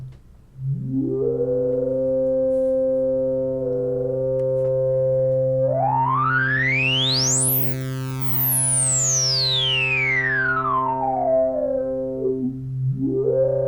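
A resonant synthesizer tone with its filter resonance slope switched from Minimoog to linear. The loud, steady pitched note sweeps up into a bright whistling peak and then glides back down before settling again.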